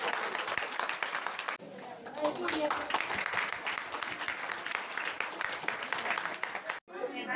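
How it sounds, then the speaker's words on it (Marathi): Audience applause at a school election event, a sustained wash of clapping from a crowd that continues for several seconds before briefly cutting off near the end. "या सर्वांचं पूर्णश एकदा आपण टाळ्या वाजवून अभिनंदन करतो"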